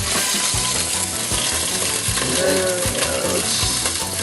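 Pot roast meat searing in hot oil in a pan, a loud steady sizzle and crackle throughout, with occasional scraping or clicking of a utensil stirring and no talk.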